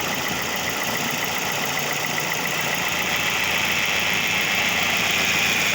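A Toyota Vios engine idling with a knocking fault runs as a steady, close rumble with a constant mechanical clatter and broadband hiss, no voices over it.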